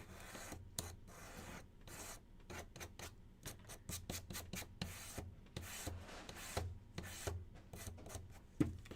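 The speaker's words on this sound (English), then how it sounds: "we're just gonna sand them" Small wooden planter kit pieces are sanded by hand with quick, close scratchy rubbing strokes in an uneven rhythm, fairly quiet, with no one talking.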